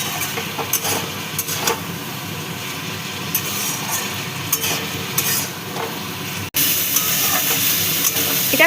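Kasuri methi being stirred into a frying vegetable curry of potato, pointed gourd and tomato, with a steady close sizzle and repeated scraping strokes of a spoon through the pan, a brief cut near the end.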